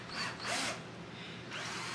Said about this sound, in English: I'm drilling through that panel there to insert a wire